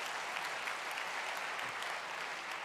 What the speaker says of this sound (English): Please give a warm round of applause to our speaker, Stefan Wittmann.